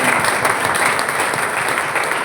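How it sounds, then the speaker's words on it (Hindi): Steady, loud applause from a crowd at a weekly health awareness meeting in Varanasi, clapping for the teachers and continuing evenly throughout. "हमारे सभी टीचरों के लिए बस शानदार तालियां चाहिए"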